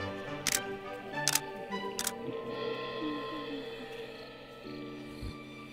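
Three sharp camera shutter clicks fire in a steady row as a selfie is taken in the Australian bush, followed by soft tonal music.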